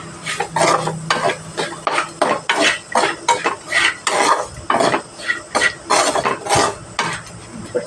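A spatula stirs bitter gourd fry tossed with a spice powder of coconut, peanuts, coriander and cumin in a pan, giving repeated scraping, clattering strokes in an irregular rhythm under a faint sizzle.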